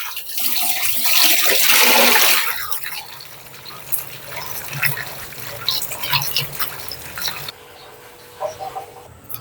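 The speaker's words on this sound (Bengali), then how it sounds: "ঢেঁড়স আমি ভালো করে ধুয়ে নিচ্ছি" About 250 grams of finely chopped okra is washed in water: a loud rushing pour at first, then irregular splashing and sloshing as the pieces are rinsed, close by.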